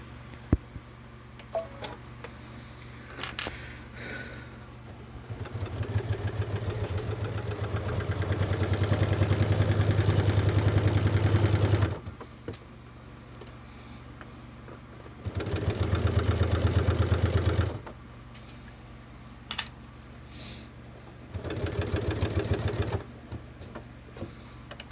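A hand-cranked sewing machine stitches through fabric for a bag in three runs of steady rhythmic whirring, the first long and the next two shorter, separated by quiet pauses and faint handling noises.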